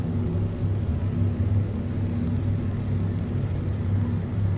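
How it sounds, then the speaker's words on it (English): Prowler spaceship engine in the Star Citizen video game, a steady deep rumbling drone held at even loudness throughout with no talk. "So much of an improvement over the earlier engine sounds."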